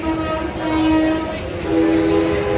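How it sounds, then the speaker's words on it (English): A sustained model train horn blows loudly and steadily for a couple of seconds at a model train show, swelling and fading slightly, over a rumbling background. "Hear the train whistle?"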